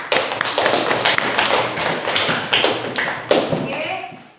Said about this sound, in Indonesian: Boleh beri aplaus kepada kelompok 4.